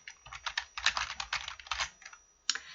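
Rapid keystrokes on a computer keyboard while entering an Excel formula, a close, steady run of clicks with short pauses and a final burst of taps; no one speaks.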